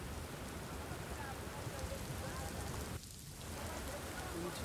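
Heavy monsoon rain pours steadily over farm fields in Maharashtra, a dense, even hiss of drops hitting surfaces, with a brief dip about three seconds in.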